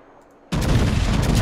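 Battleship guns firing in the World of Warships naval game, a sudden loud broadband blast that starts abruptly and holds as a dense, sustained roar of rapid gunfire after a quiet moment.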